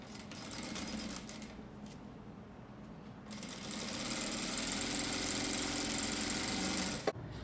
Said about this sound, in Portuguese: deixando o outro tecido para fazer aquela primeira costura, que seria a costura de segurança